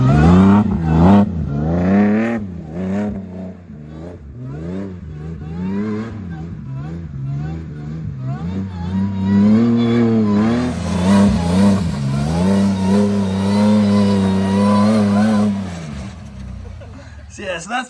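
A car fitted with an L67 supercharged engine accelerates hard through several rising and falling rev sweeps, loud and close, with a voice speaking over parts of the run.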